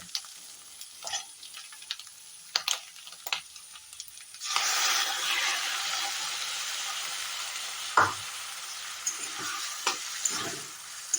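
Freshwater snails and onions fry in a pan with mustard paste, with scraping stirs at first, then a loud, steady sizzle that swells and stays close, broken by occasional clinks of the spoon.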